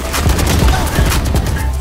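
Rapid bursts of video game gunfire crackle loudly and continuously, an intense close volley of shots filling the short stretch with no pauses.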